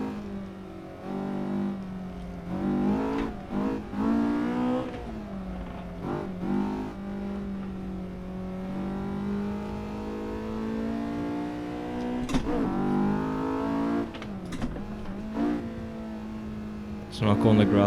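A car driven fast around a race track, its engine droning loud and close as it accelerates, shifts through the gears and brakes down in fourth, with someone talking over the engine throughout.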